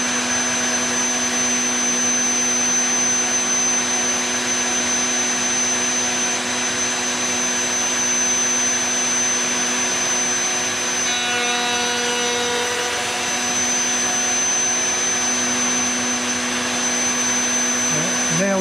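A biscuit joiner cuts wood while its dust extraction suction runs, making a loud, continuous whine and roar that holds steady throughout, close by, with no talking.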